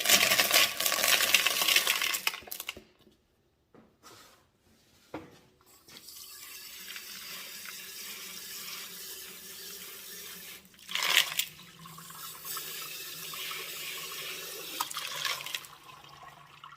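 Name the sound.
rinsing tumbled rocks under running water after borax wash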